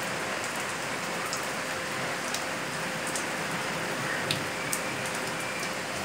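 Heavy rain pours steadily in cold early-winter weather, a dense, continuous hiss close by with a few sharper drop impacts scattered through it and no voices.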